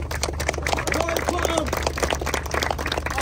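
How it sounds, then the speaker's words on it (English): Community gathering in Ravensthorpe for a prayer event, where a crowd applauds a speaker with brisk, busy clapping and murmured voices and chatter underneath throughout. "Let's inshallah give a round of applause to Amar Anwar."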